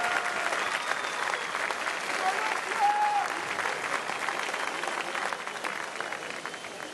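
An audience at the pastry world cup competition applauds the Colombian team, a steady wash of clapping from a crowd lasting throughout, with faint talk beneath it.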